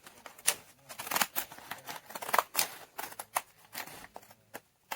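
Scissors cutting through paper for a junk journal, a quick run of close, crisp snips and rustling paper crunches, steady and fairly loud throughout with no talking.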